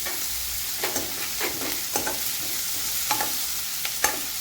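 Garlic cloves and a slit green chili frying with softened onion for a paneer curry: a soft steady sizzle broken by several quick scraping stirs, close and unaccompanied by speech.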